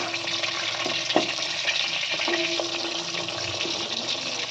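Chicken kebab pieces bound with sattu fry in a pan, giving a steady broadband sizzle that stays loud and even throughout, with a few light clinks and scrapes as the pieces are turned; no talking.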